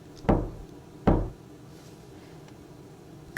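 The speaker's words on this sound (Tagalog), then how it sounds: "makarinig ako ng dalawang katok mula sa kama ni kuya" Two sharp wooden knocks, spaced about a second apart and then fading, make up a radio drama sound effect over quiet background.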